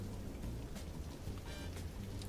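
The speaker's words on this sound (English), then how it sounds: "It's raining. It's like snow rain." Steady rain in a flight simulator game during a snowy takeoff, a soft, even hiss of drops on a surface, faint and continuous with no talk.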